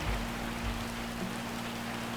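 Steady rain falling in the Bear and Breakfast video game, a constant soft hiss of drops with a faint low hum beneath, with no voices.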